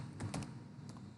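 A few quick keystrokes on a computer keyboard while typing Bengali text in a word processor, soft close clicks in a brief burst with no talking.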